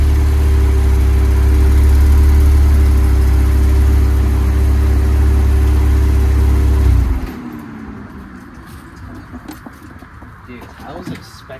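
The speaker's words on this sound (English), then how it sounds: "Dude, that exhaust sounds so good." A Porsche 911 Turbo S, a 570 hp supercar, idles with a loud, steady low exhaust rumble that cuts off after about seven seconds, leaving quiet ambient noise.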